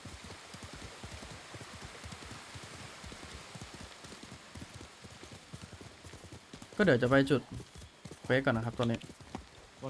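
A horse gallops in the samurai video game Ghost of Tsushima, its hoofbeats a quick, even clip-clop throughout, mixed with soft rain, and someone talks over the last few seconds.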